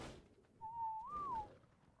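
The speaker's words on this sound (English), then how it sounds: "Uh oh, someone whistled." A single two-note whistle in the video game ARK, a rising then falling tone held for about a second, clear over a quiet background.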